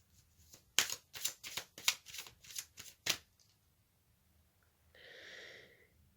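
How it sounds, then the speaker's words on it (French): Oracle cards are shuffled in a quick series of about eight crisp riffling bursts, close and fairly quiet, followed by a pause and a soft sliding sound as a card is drawn. "je vais tirer une carte de l'oracle aromatique"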